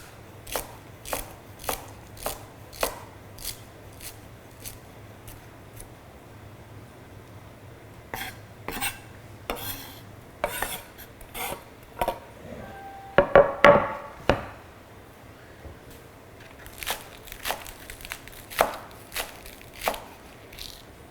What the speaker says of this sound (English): So I always start with the heart of the celery. So we'll start chopping all of this up.